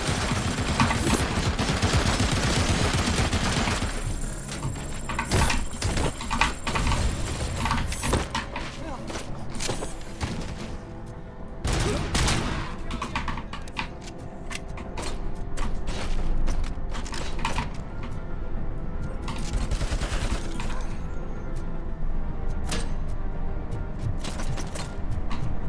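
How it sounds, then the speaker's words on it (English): Machine gun fire in the video game RoboCop: Rogue City rattles in loud, dense bursts over mechanical clatter and game noise, continuing almost without pause. "Oh shit, a machine gun."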